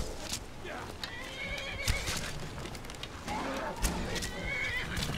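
Shadowmere, a horse in the video game Skyrim, whinnies loudly with hoofbeats clopping around it, set against busy in-game ambience and what sounds like fighting.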